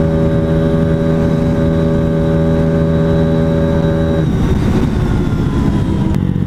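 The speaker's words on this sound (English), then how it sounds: "my bike is running at a lower RPM at the upper end of my spectrum" A motorcycle engine runs steadily at a constant low RPM, loud and close throughout, with a smooth droning hum that roughens and shifts near the end.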